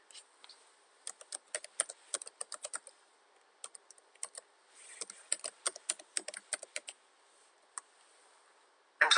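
Typing on a computer keyboard while entering an email address, with bursts of rapid, crisp key clicks in uneven runs and short pauses, close and fairly quiet.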